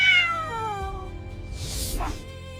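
A single drawn-out cat meow sliding downward in pitch, close and clear, followed by a brief rustle and quieter noise.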